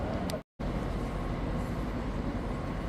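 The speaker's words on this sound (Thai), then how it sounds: "เป็นสถานีรถไฟที่ใหญ่มาก" Steady, loud rumbling ambience of a large station with a continuous roar of traffic and machinery, briefly cut to silence near the start.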